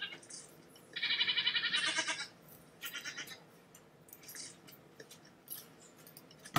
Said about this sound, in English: And then next are my goats.